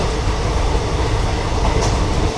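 Howrah–Chakradharpur Express running at night near Purulia, a dense continuous roar of rails and wheels close up, steady and loud throughout with no voices.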